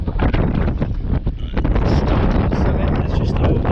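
Strong wind buffeting the microphone on an exposed mountain ridge of Snowdon along the Rhyd Ddu path, a loud continuous roaring rumble with gusty surges throughout.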